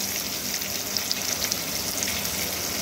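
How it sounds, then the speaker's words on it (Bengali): Pointed gourds stuffed with chicken frying in a pan with salt and turmeric, a dense, even sizzle and crackle heard up close without speech. "দিয়ে খুব ভালো করে নাড়াচাড়া করে একটু ভেজে নেব"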